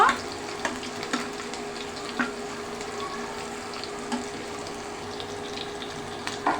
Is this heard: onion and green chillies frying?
yes